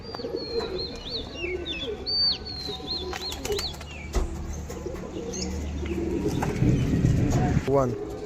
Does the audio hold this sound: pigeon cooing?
yes